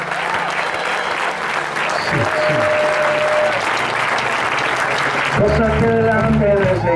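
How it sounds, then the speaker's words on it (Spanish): A church congregation applauds loudly and steadily in a dense, sustained wash of clapping, with a voice and music rising over it near the end. "Denle un fuerte aplauso a Dios"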